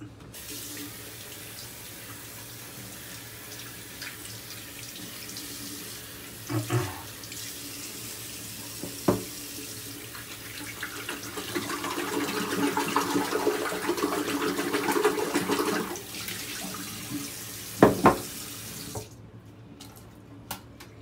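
Tap water runs steadily into a sink over a shaving brush still holding old lather, a continuous splashing rush that swells louder midway, then a few knocks before the flow cuts off.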